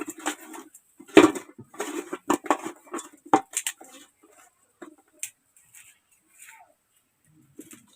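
Fish rubbed with salt and turmeric in a dish makes soft, irregular wet patting and faint clinks, loudest in the first few seconds, then thinning out into sparse light taps.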